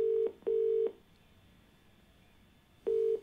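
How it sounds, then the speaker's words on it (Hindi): An outgoing telephone call to a caller rings through on the line, giving a clear double-beep ringing tone, then a pause, then the double beep again, loud against a quiet hiss. "चलिए फोन लगाते हैं अपने पहले कॉलर को।"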